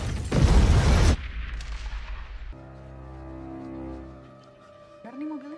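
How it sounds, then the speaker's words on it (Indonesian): A bomb blast at an airport in a film erupts as a loud booming explosion with a harsh roar, then fades into a low rumble and ringing tones as a voice begins speaking near the end. "sebuah bom meledak."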